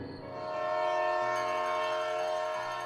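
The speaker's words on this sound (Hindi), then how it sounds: "वेदा को ट्रेन के हॉर्न की आवाज़ सुनाई दी" A train horn blares in a long, steady chord, loud and close, sustained for nearly three seconds over the rumble of the train.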